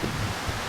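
Gusty wind blowing outdoors near a mountain cabin in southern Norway, a constant rushing buffet against the microphone with low rumbling thumps throughout.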